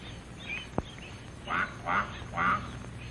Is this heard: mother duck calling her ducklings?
yes